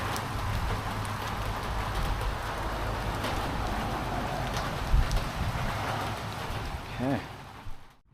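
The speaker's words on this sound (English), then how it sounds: "The rain's died down." Steady rain hisses evenly throughout in Innisfail, Australia, with a passing vehicle or footsteps faint in the mix and a brief voice near the end.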